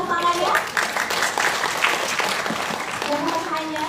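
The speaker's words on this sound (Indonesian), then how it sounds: "Boleh juga tepuk tangannya?" An audience at a cancer-education talk show applauds in a steady burst of clapping, with a host's voice speaking over it at times.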